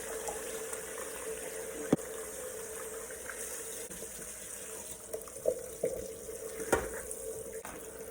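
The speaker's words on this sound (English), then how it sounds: "I'm going to fill this up with some more cold water and then dump it in the strainer again" Cold tap water runs steadily into a sink while salted zucchini is rinsed in a strainer, a continuous hiss of flowing water broken by a few knocks and splashes of handling.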